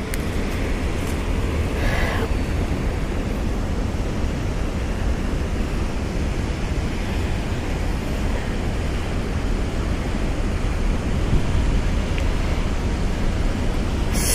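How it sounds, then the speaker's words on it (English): Strong wind roars steadily on open water during a fishing trip, a loud, continuous rush that buffets the microphone throughout the whole stretch. "this wind is just wreaking havoc"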